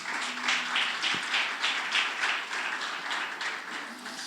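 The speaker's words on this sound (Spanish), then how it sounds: "Dale un aplauso al Rey." A church congregation claps in applause for the King during a sermon, moderately faint rhythmic clapping that pulses steadily with a brief knock partway through.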